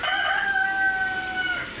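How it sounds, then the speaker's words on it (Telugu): A rooster crowing sound effect from a Casio CT-X8000IN keyboard plays as a single sustained crow, clear and fairly loud, with no voices over it. "అది కోడి సౌండ్."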